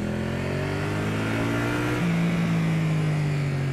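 Triumph Street Twin motorcycle, 2019 update, revving alone with a steady loud engine drone that steps up in pitch midway and holds, the exhaust carrying a whistling tone.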